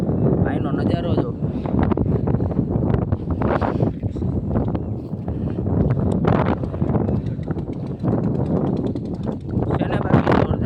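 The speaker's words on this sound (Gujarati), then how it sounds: "બાકી જોરદાર ટાટો પવન છે" Strong cold wind gusts across a hilltop, roaring and buffeting the microphone steadily throughout with people talking over it.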